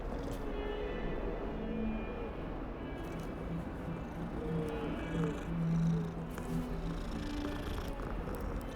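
Cat purring in a video game, a steady close rumbling purr under a constant background drone with faint tonal game sounds.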